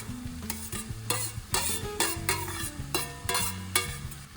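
Noodles with spring onion being stirred in a pan with a little oil, giving steady scraping and sizzling strokes in an uneven rhythm, close and moderately loud, with a faint tonal music bed running underneath.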